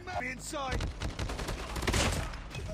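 A quick string of sharp hip-fire gunshots from a gold HBRa3 rifle in Call of Duty Mobile crackles in a steady rhythm, following a short burst of speech at the start.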